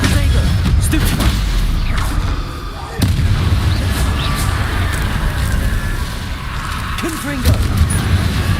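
Repeated Confringo explosion curse blasts in the Hogwarts Legacy video game, loud booming bursts layered with game sounds and dense combat noise throughout.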